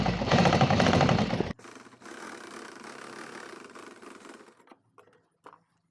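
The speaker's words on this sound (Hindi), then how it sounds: "और इधर भी कच्ची सिलाई लगानी है, क्योंकि अभी हम पक्का बाद में करेंगे" A sewing machine hums loudly in a fast, steady run as it bastes a loose seam on a plain blouse, then stops abruptly, leaving faint handling sounds and quiet.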